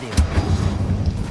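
Incendio fire spell cast in Hogwarts Legacy, a sharp whooshing burst followed by low rumbling, crackling flame pulses, short and loud.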